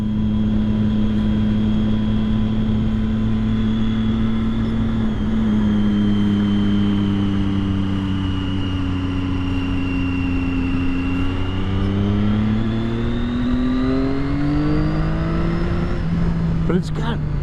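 A 2012 Triumph Daytona 675 motorcycle engine holds a loud, steady drone near 6,000 RPM, its pitch climbing gradually toward the end, a rider talking over it.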